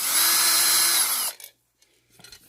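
A power drill backs a screw out of the rear of a solar charge controller, whining loud and steady for just over a second before stopping, followed by faint handling clicks.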